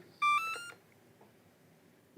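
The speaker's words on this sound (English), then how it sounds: "It's going to beep." An RC plane receiver gives one bright, clear electronic beep sequence of a couple of stepped tones as it reboots, then falls quiet, close and alone.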